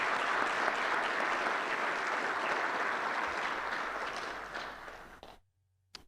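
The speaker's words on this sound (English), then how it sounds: "So if we can give them a round of applause." Sustained round of applause from an audience at a council inaugural meeting, steady and full for about five seconds before stopping abruptly into silence, with a brief final sound at the end.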